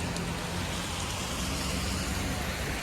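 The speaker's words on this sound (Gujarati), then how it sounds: "વરસાદ વરસાદ ચાલુ છે" Dense, steady rain pours down in a constant hiss, fairly loud and unbroken, with no voices.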